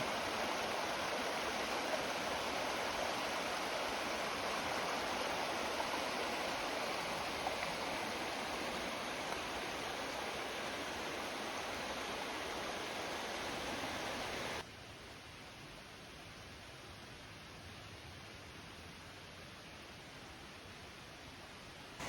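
A creek flows beneath a small footbridge on a wooded trail, a steady broadband rush of water that holds constant, then abruptly drops to a softer level partway through.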